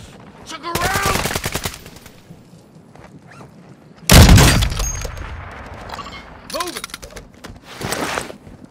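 Automatic gunfire from Call of Duty: Modern Warfare II comes in several rapid bursts, including a loud close heavy volley in the middle, mixed with ringing hit effects and game voices.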